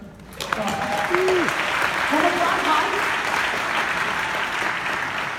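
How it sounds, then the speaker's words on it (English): Keynote audience applause in London, a wash of clapping at moderate level that starts after a brief quiet moment, with a voice speaking briefly over it. "let's clap it up for everybody"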